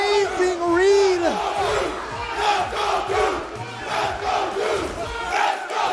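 A loud crowd at the Texas Showdown 2018 Street Fighter V tournament roars and cheers continuously, with yells and whoops rising over the din throughout.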